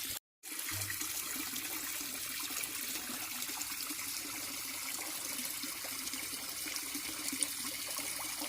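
Steady water pouring and trickling into a garden pond as it fills nearly to the brim, a continuous even rush close by with no voices.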